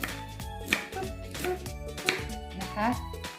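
A knife chops vegetables on a cutting board while preparing okonomiyaki, giving repeated sharp taps in an uneven rhythm, close and clear under someone talking in a home kitchen.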